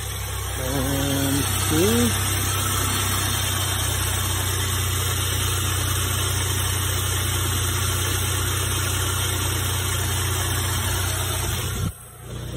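A Toyota Tundra truck's 4.0 V6 engine idles steadily and close by with a constant low hum, after a brief voice at the start; the sound drops off abruptly near the end.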